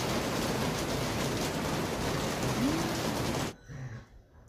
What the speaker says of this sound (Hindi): यहाँ देखो बारिश स्टार्ट हो गई है ज़ोरदार, देख सकते हैं।